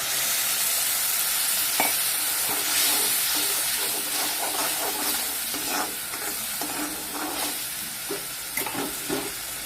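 Steady, loud sizzling of a garlic, chili, coconut and ginger spice paste frying in a hot pan, with intermittent scraping stirs and no voices.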